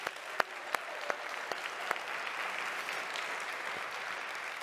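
An audience applauds at a psychedelics and mental health event, a soft, steady clatter of clapping heard from a distance, with a few sharper individual claps standing out early on.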